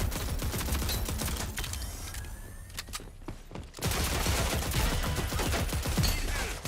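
Gunfire in the Rogue Company video game, rapid automatic bursts of sharp clicking shots, close and loud, briefly thinning out midway before resuming in dense volleys.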